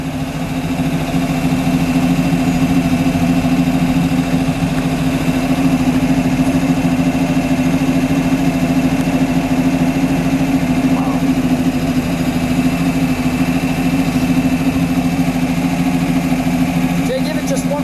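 A red 1959 Chevrolet Impala convertible with a fuel-injected V8 idles nearby with a loud, steady, even rumble that holds constant throughout, while people talk over it.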